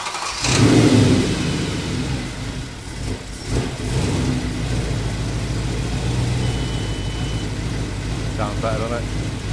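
A car engine revs after a manifold repair, throttled up loudly at first, then settling into a steady mid-pitched running drone with a few brief surges, close by, with people talking faintly over it.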